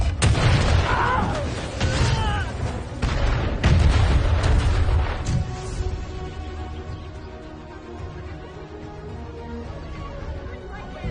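Artillery booms and gunfire from a western film battle, loud concussive blasts and crackling shots in the first half, fading into a lingering rumble and distant noise; a shouted voice is briefly heard.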